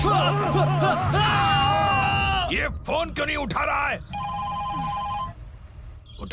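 An unanswered telephone rings with repeated electronic trills, loud and close, while voices talk and shout over it at first; the rings then carry on alone.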